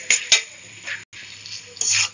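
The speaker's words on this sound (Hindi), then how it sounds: "देखिए, अब मैं इन सब सब्जी को अच्छी तरह से मसालों में मिक्स कर ले रही हूँ।" Chopped bell pepper and potato being stirred into toasted spices in a metal pan, a few close scraping clinks of a spoon against the pan with soft rustling between, no talking.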